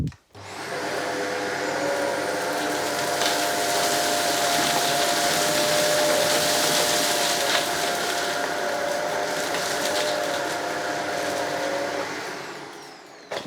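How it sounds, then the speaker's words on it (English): Shark Anti Hair Wrap DuoClean AZ950UK vacuum cleaner running on a hard floor, a steady loud whirring drone with a faint tonal whine that holds for about thirteen seconds before cutting off, no talking. "so let's give it a go on the hard floor first, and then I'll move over to the rug"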